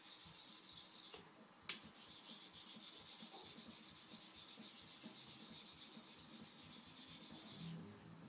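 A slurry stone rubbed back and forth across a glacial-deposit natural hone found in Indiana, working up slurry with a steady gritty scraping rhythm, close and quiet, with one sharp tap partway through.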